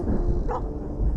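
A dog in the video game Where The Heart Leads gives a short, close bark or yip, brief and alone.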